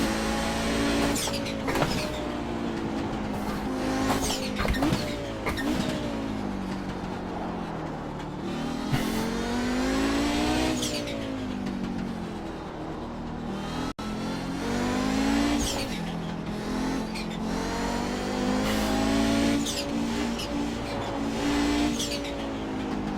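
Audi GTO race car in the iRacing simulator at Summit Point, its engine roaring continuously and rising and falling in pitch through gear changes and braking for corners.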